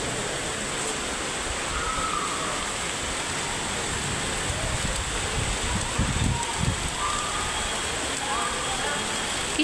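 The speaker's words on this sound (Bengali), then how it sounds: "কি সুন্দর বৃষ্টি পড়ছে, আমার ক্লাসের ভিতরেই ঘুম পাইতেছিল, এত সুন্দর বৃষ্টি।" Steady rain pours outside a college building, a constant broadband hiss of falling drops with a few faint low thumps and patters, heard close and fairly loud.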